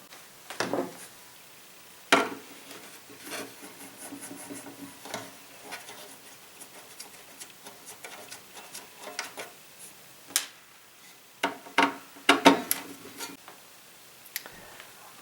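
A screwdriver working screws out of an NES cartridge: sparse, close clicks and small metallic ticks at irregular intervals, each crisp and faint, with no talk.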